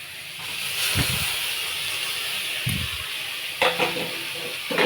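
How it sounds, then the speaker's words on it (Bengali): Shrimp go into a hot pan with fish and chopped tomato for a Bengali singara filling, producing a steady loud hiss and sizzle with a few brief clatters of stirring, close up and without talking. "আর চিংড়িটা এখন দিয়ে দেব"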